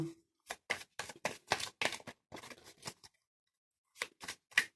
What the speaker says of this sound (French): Je brasse donc les cartes.